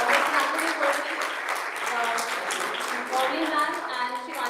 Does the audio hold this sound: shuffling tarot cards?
no